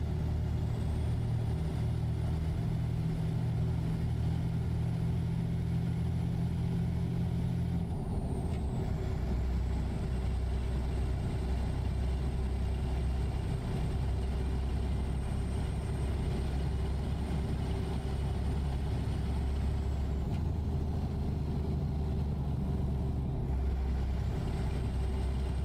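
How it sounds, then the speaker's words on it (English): A Detroit Diesel DD60 12-liter engine from a Freightliner Cascadia, heard in American Truck Simulator, drones loud and steady under load. Two long tones sweep up and then drop away with the engine's pitch, and brief hisses break in around the changes. "these engine sounds that we're running today, the DD60 12-liter, were recorded from a Cascadia"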